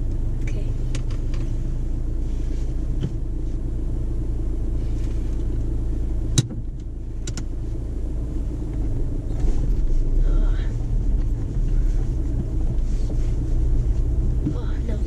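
A car's engine rumbles steadily at low pitch as a nine-year-old girl drives for the first time, with a brief knock midway and an adult talking over the drone.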